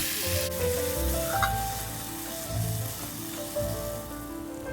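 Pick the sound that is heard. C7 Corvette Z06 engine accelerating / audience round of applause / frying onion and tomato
frying onion and tomato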